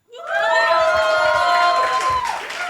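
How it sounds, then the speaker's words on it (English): A college audience at a Hindu College marketing event cheers and whoops as acts change on stage. The cheering swells quickly and stays loud and bright with sustained shouts, then tapers slightly near the end. "A round of applause for them"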